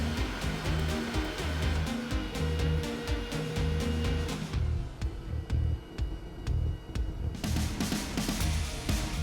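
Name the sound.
car aircon blower fan running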